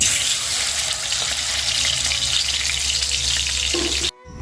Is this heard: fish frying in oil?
yes